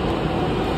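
A metro train pulls into a station in Gurugram, heard as a steady, loud rumble of rolling wheels and machinery with no voices over it.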